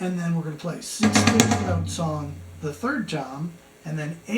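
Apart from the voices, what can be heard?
No distinct noise like a dog, phone or traffic.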